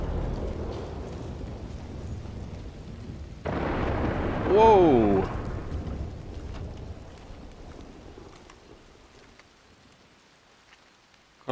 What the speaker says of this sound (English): Gotta love a good thunderstorm.